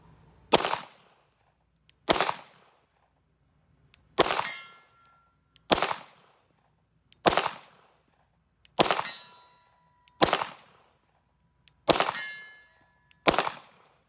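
Eight FN FNS9 pistol shots fired at a 50-yard target, sharp loud single reports spaced roughly one and a half seconds apart, each with a quick ringing decay and near silence between them.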